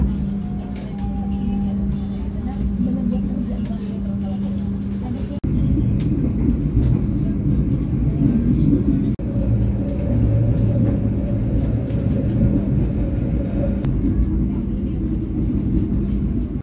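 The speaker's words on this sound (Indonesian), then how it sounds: "Kereta api harus berusaha menjaga pengereman karena jalan rel yang menurun." Argo Wilis passenger train rolls down a descending track while braking, a steady low rumble and rolling noise heard from inside the carriage, continuous throughout with small shifts in level.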